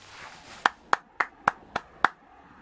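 Six sharp hand claps, evenly spaced about a quarter second apart, close and crisp over a quiet background, from one person sitting in a classroom.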